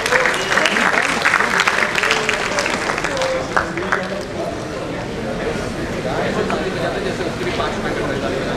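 An audience at the Defcon Lucknow 2015 security conference claps for an introduced speaker. The applause is dense and loud, then tapers, and voices and chatter sound over it.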